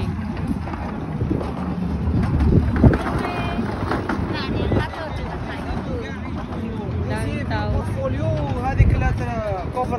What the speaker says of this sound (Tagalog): Mahangin at malamig.